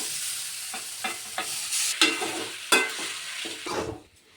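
Tempering sautéing in oil for mango rice, soft sizzling broken by several sharp scraping stirs of a spoon in the pan, close and quiet, fading out at the end.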